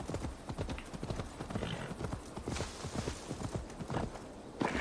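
Hooves clip-clop from a horse in Assassin's Creed Valhalla, a brisk, even run of hoof strikes that is near and prominent, with a faint whinny-like tone mixed in and no one talking.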